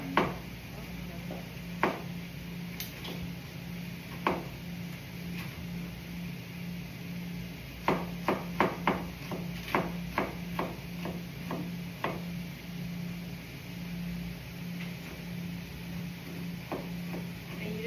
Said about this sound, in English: Continue to chop it until it mimics the rice itself